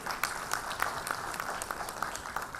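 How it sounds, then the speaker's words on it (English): Applause from the audience at the Pharma Ratan 2018 pharmaceutical awards event, a soft wash of many distant hands clapping steadily and fairly faintly, with no talk over it. "Give a big applause for the manufacturer."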